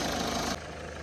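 Steady, rumbling diesel idle of a 2011 Citroen Berlingo 1.6 up close, even and continuous, with a sudden drop in loudness partway through.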